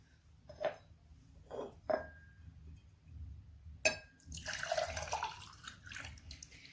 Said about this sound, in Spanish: Luego vierte el agua de un vaso a otro más delgado y largo.